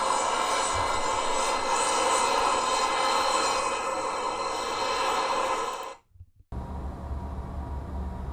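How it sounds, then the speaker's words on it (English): Challenger 650 business jet engine spooling up during engine start in X-Plane 12, a loud steady turbine roar that cuts off briefly near the end before a lower, quieter hum resumes. "Engine 1 start."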